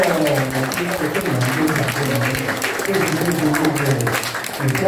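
A crowd claps in sustained applause to welcome a school class and its class monitor at an art exhibition opening, steady and dense throughout, with voices underneath.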